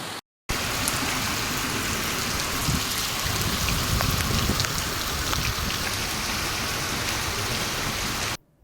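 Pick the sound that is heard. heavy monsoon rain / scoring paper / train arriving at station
heavy monsoon rain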